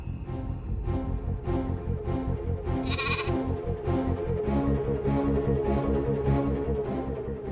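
Goat bleating repeatedly in a steady string of nasal cries at close range, with a brief hissy noise partway through.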